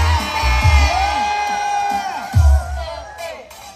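A political rally crowd for President Rodrigo Roa Duterte shouts and cheers, loud voices swelling in a few surges with yells rising over a dense roar.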